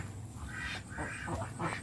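Laying ducks on a farm quack a few times in quick succession, fairly soft and close, over a low background hum.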